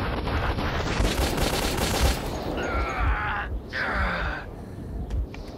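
Gunfire from the video game Metro 2033 fills the scene with dense, rapid bursts of shots layered over constant combat noise, with some squealing tones in between.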